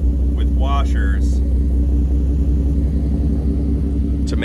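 A Nissan VQ engine with an aftermarket exhaust sits at warm idle, giving a steady low rumble throughout, close and loud, while a person speaks briefly over it.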